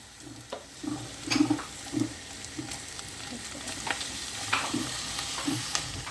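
Broccoli tossed into onions sautéing in a pot for soup, soft sizzling with repeated scraping stirs and light clatter at close range, uneven bursts over a quiet background.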